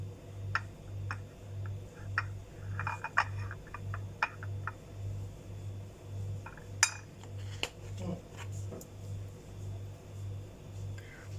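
Pistachio powder is stirred into khoya for shahi tukda, with a spoon lightly clinking and scraping against a bowl in soft irregular taps, over a steady low background hum.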